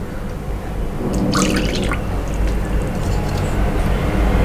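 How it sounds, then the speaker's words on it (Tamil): Plain curd is poured from a cup into gram flour in a bowl, a short wet splashing plop over a steady background hiss, close and moderately loud with no talking. "இது கூடவே தயிர் நான் 1 கப் அப்படியே ஆட் பண்ணுறேன்"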